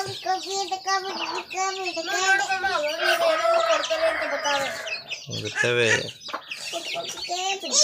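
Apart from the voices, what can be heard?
one-month-old country chicken chicks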